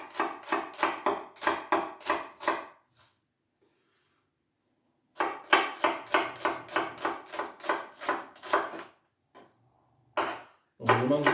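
Onion being roughly chopped with a knife on a board for a lamb tagine: two long runs of fast, evenly spaced chops, close and crisp, separated by a brief silence, then a few final knocks.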